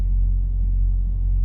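Steady low rumble of a heavily loaded Prime Inc semi-truck engine hauling a reefer trailer, heard as a continuous, even drone from inside the cab with no talking.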